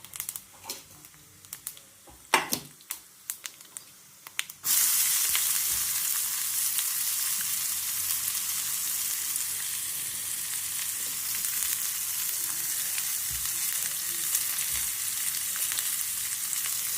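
Spices hit hot oil for a tempering over leftover brown rice, breaking into a loud, steady sizzle after a few seconds of light clinks and handling. The hiss holds on continuously and alone to the end.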